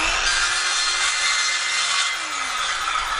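A circular saw cutting through wood guided along a rafter square, a loud continuous high whine holding steady for the whole cut, close up and alone.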